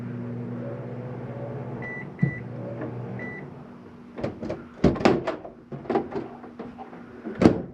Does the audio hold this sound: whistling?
no